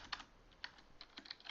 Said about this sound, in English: Sorry about the keyboard noise.